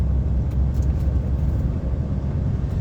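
Coach passing a truck on the A82 through the Scottish Highlands, heard as a steady broadband road rumble and engine drone, loud and continuous, with no voices.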